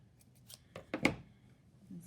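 Scissors cut yarn for a children's jellyfish craft with a few quick, close snips, the sharpest one in the middle, in an otherwise quiet room.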